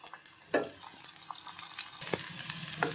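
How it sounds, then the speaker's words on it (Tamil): Onions for palak paneer frying in a pan alongside chopped garlic make a quiet sizzle broken by several close spatula scrapes and stirring clinks against the pan. "இது லைட்டாக ஓரளவுக்கு கோல்டன் ப்ரௌன் ஆகிற வரைக்கும் நம்ம ஃப்ரை பண்ண வேண்டியதுதான்."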